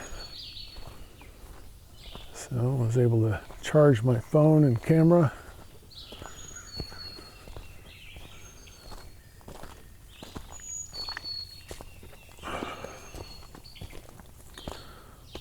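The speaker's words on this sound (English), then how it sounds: "Birds are pretty loud right now." Birds sing at sunrise along the Bench Road Trail in Mount Nebo State Park, Arkansas, with scattered faint chirps and tweets in the background while someone talks briefly near the start.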